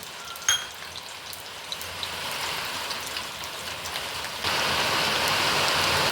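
Mustard seeds sizzle in hot oil for a moringa leaf curry tempering, with soft crackles and a few sharp pops, then the hiss suddenly swells into a steady, louder frying sound.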